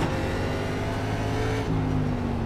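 NASCAR race car in the iRacing sim at Watkins Glen, engine roaring loud and steady as it pulls hard out of a corner, with a brief dip near the end like a gear change before the pitch climbs again.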